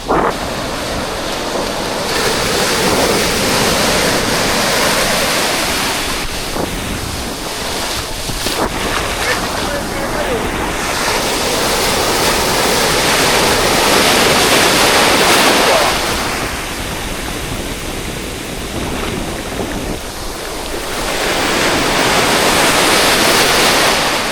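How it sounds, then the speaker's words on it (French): Big ocean waves crash onto the shore in a continuous roaring surge, swelling and easing in long cycles, with strong wind rumble across the microphone. "Regardez juste comme elles sont grosses les vagues."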